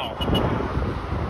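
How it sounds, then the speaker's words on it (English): Car horns honking in street traffic at Yonge and Sheppard in Toronto, heard amid steady roadway noise and wind on the microphone, with short toots near the start. "Why do you have to honk like crazy like that?"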